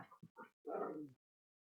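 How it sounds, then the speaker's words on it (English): Pet dogs bark and yip in short bursts in a quiet room, several quick faint yelps followed by a longer, louder bark, with nobody speaking. "Sorry if you hear my dogs."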